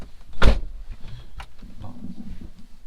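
Someone climbs into a car and pulls the door shut with a single dull thud, close by, followed by faint shifting and rustling inside the cabin.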